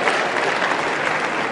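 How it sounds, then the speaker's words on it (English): An audience at a speaker's talk claps loudly and steadily, dense applause from a crowd that runs the whole time and then stops abruptly. "Give yourselves a round of applause."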